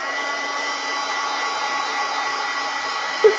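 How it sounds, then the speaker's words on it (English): A heat gun drying acrylic paint on a canvas gives a steady, loud whooshing blast of air that runs without a break, with a short bump near the end. "So I'll just take a heat gun and I will dry this."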